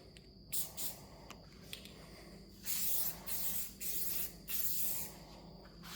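An aerosol can spray-paints a car part with a satin finish in a speed shop, letting out a series of close, steady hissing bursts of a second or so each, separated by short pauses.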